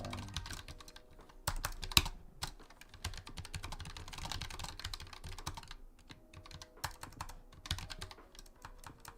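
Steady typing on an unfamiliar computer keyboard, quick clicking keystrokes at close range continuing for several seconds with brief pauses.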